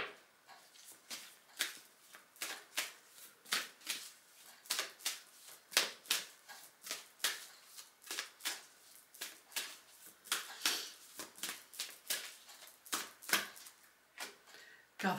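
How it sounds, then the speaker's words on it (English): Quick riffling and soft slapping of cards being shuffled repeatedly, close and fairly quiet, in steady bursts with brief pauses between. "Let's give a proper shuffle."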